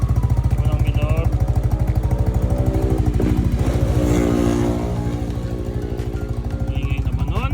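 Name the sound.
Yamaha NMAX scooter engine revving with JVT v2.1 exhaust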